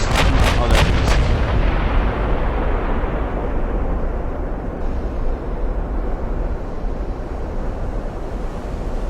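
Main guns of the USS Iowa battleship fire in Ultimate Admiral: Dreadnoughts, opening with a quick ragged volley of four or five heavy booms. A loud, steady rumble of battle noise follows and fills the rest.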